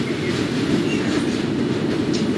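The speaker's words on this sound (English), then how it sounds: "I hear the train simulator." Train running in the OpenBVE simulator game, an R42 subway car on a Brighton Beach to Forest Hills run, giving a loud, steady rumbling roar with a dense rolling rattle throughout, no voices.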